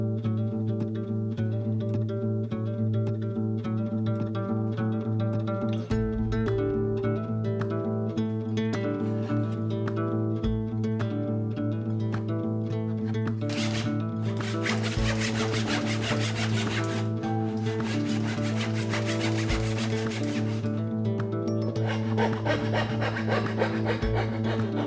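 A hand saw cuts a large tenon into a wooden king bed side rail with long rhythmic rasping strokes, close and steady, punctuated by a few dull knocks and a stretch of brighter, faster sawing.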